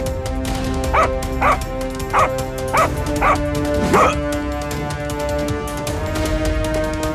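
Cartoon dogs bark in a run of about six sharp, evenly spaced yaps over a steady music bed, loud and close, then fade out as the music carries on.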